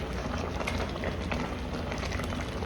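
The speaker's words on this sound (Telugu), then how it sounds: "ఇది ఉడకనిద్దాం, కొంచెం టైం పడుతుంది." Gongura and chana dal curry simmering in a pot, a dense steady bubbling and hissing boil heard close up, continuous and without talk.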